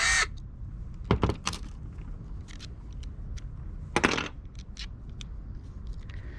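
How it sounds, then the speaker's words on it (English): Screws are being taken out of car body kit pieces during a Wide Maxx kit install, heard as scattered sharp metallic clicks and scrapes, with two louder rattling bursts standing out against a quiet background. "Now we just need to take the screws out of everything that's holding these pieces on."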